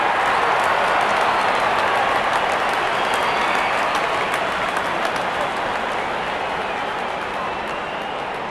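Crowd cheering and applauding in the cricket video game Real Cricket 24, a dense, steady roar of clapping that fills the whole stretch at constant loudness.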